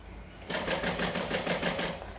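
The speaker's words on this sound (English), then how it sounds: "You want to top stitch" A sewing machine top stitching along a fabric fold for a wand holder: a close, steady mechanical whir with rapid even needle pulses that starts abruptly and runs for under two seconds, no talking.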